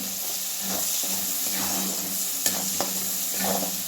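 Food being stirred and mixed in a hot frying pan with salt and coriander powder, a steady sizzle and hiss running throughout while a few sharp spoon clicks and scrapes stand out close by.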